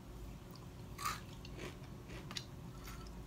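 Someone crunching on a spicy garlic-mix Indian snack, with a few crisp bites and chewing crunches close to the mic, quiet and without talk.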